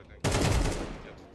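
A single loud, close gunshot in the CS2 video game, a sharp blast that rings and decays for about a second.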